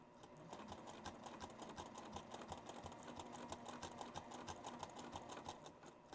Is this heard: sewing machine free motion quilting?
yes